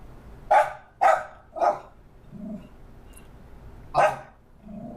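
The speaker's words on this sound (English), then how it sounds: "pardon the interruption by my dog Zuma" A dog lets out three sharp barks in quick succession nearby, goes quiet briefly, then gives one more loud bark over a low indoor background.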